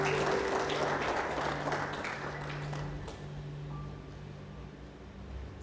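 A church congregation gives steady, dense applause that fades gradually over several seconds. A faint low hum sits underneath.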